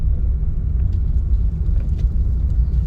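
A car being driven in second gear just after the shift, with steady engine rumble and road noise loud and close, no talk over it.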